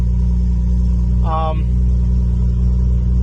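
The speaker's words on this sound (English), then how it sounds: "we have fuel pressure and the car's running and idling" A Nissan Skyline R34 GTR engine runs at idle after a fuel pump replacement in a garage, a steady low drone throughout, with a brief voice breaking in near the middle.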